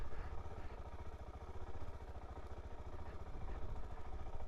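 Suzuki DR-Z4S motorcycle engine idling with no throttle input, a steady low chugging pulse with faint mechanical clatter, close and continuous throughout.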